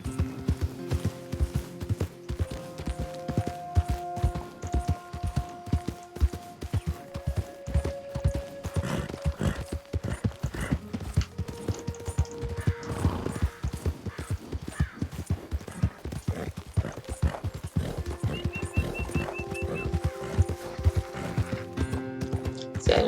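Horse hooves clip-clop continuously in Red Dead Online, a busy rapid patter of hoofbeats with faint creaking tack, running under steady game music throughout.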